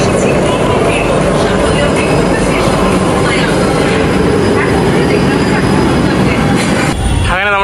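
A metro train runs through a Kolkata metro station with a loud, continuous rumble and rattle of wheels on rails, ending in a brief high squeal near the end.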